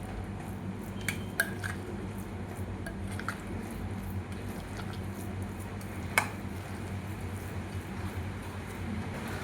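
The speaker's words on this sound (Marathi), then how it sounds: "हे सगळं आपण छान मिक्स करू।" Lentil vada batter is mixed with ginger, garlic and chili paste in a bowl. Soft, wet squishing and stirring runs steadily at low volume, broken by a few sharp clinks of a utensil against the bowl.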